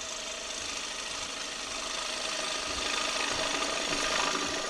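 A wood lathe spins while a tool cuts down the spindle beneath a turned bowl, giving a continuous, fairly loud whirring, scraping hiss that holds steady throughout.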